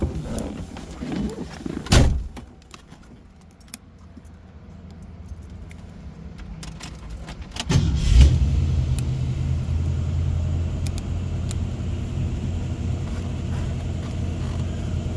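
A restored 1966 Ford Mustang convertible, C-code V8 with a C4 automatic, cranks and fires up at close range, then settles into a loud, steady, rumbling idle after an earlier brief revving burst.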